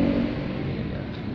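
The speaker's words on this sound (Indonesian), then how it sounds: "sorry berisik banget pinggir jalan." Roadside traffic makes a steady, loud broadband rumble and hiss, with no distinct single vehicle standing out.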